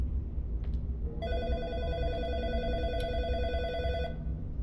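An old telephone rings in the horror game In Sound Mind, a single steady electric bell ring lasting about three seconds over a low dark ambient hum, with faint clicks before it.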